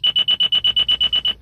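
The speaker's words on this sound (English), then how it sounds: "Now it beeps." A Ford S-Max sounds a rapid series of about ten loud, even electronic beeps after the ignition key is turned, then falls silent.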